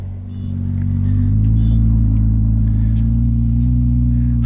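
A Ferrari 296 V6 hybrid sports car arriving, heard as a deep, steady engine drone that swells after a quiet start and holds loud and close with a layered low hum.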